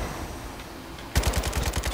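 Bursts of rapid automatic fire from an AK-style rifle in a video game, a quick rattling string of shots that starts abruptly after a quiet lull, close and loud.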